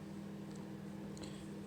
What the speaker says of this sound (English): you can hear the microwave whirring away